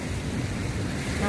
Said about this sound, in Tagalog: Grabe ang hangin, promise.